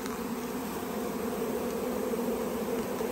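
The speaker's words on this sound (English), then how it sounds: "Oh, there's a bee on the phone." Bees buzz steadily and close throughout while package bees are being installed into a hive with a marked queen in a small cage, a dense continuous drone with no talking.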